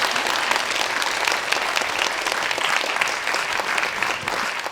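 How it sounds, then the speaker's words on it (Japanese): Sustained applause from an audience at an architecture award ceremony for under-35 architects, steady dense clapping filling the room throughout with no pauses. "皆さん大きな拍手をお願いいたします。"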